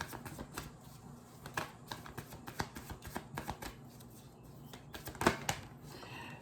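Tarot cards are shuffled close by in quick bursts of riffling and soft slaps, with brief pauses between.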